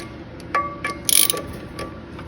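Bolts on a Spitfire woodchipper blade are loosened with a wrench, giving a few short metallic ratcheting clicks and one brief louder rattle, close and fairly quiet.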